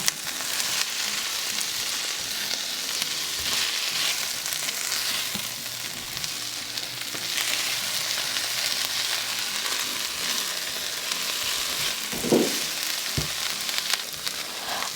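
Onion, tomato and garlic sauté over low-to-medium gas heat with a continuous, fairly loud sizzling hiss, marked by occasional stirring scrapes and a couple of brief knocks near the end.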